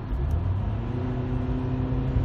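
A car engine, just fitted with a replaced and adjusted TPS sensor, revs hard at wide-open throttle. It makes a steady, close, droning roar and rumble that holds through the whole short stretch.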